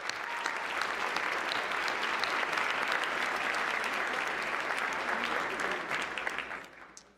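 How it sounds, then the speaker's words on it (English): Big round of applause from the audience at the White House Correspondents' Association Dinner, a large ballroom crowd clapping densely and steadily before tapering off at the end. "Let's give Caitlin another big round of applause."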